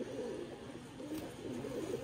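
Pigeons coo softly and continuously at a Sialkot loft, low murmuring calls repeating without pause over faint background noise.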